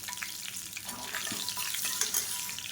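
Mustard seeds, urad dal, fenugreek and dried red chillies fry in hot oil as a tempering for tiffin sambar, giving a steady close crackling sizzle with a few faint pops.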